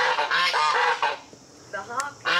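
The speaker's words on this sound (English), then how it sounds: "The honking." Geese honking loudly and close by, a rapid run of repeated harsh calls, a brief lull, then another burst of honks at the end.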